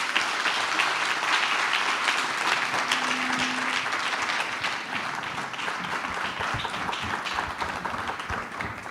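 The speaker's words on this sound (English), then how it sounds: "Please give them a round of applause" An audience at a pediatrics research celebration opening event applauds steadily, a dense wash of many hands clapping that holds loud throughout and eases slightly toward the end.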